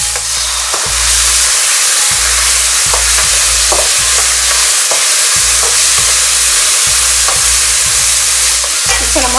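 Vegetable fried rice sizzles loudly in a pan as soy sauce goes in, with a steady frying hiss and repeated scraping stirs in an uneven rhythm, close and continuous without any talk.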